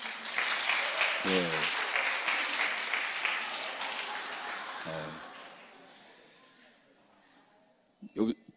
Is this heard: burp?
no